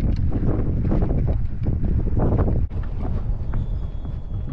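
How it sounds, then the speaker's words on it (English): Strong wind gusts rushing up a dam spillway during a fishing outing, roaring steadily and close into the microphone with buffeting bursts and a brief dip before resuming. "I'm sure y'all can hear the wind."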